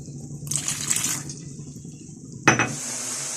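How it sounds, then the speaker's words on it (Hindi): A small splash of water hits a hot frying pan of browned garlic, ginger and onion, giving a short burst of sizzling hiss, then a sharp clatter and renewed loud sizzle. "अब इसमें मैं पानी डालूंगी थोड़ा सा।"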